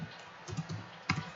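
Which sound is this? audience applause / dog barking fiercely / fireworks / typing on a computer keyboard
typing on a computer keyboard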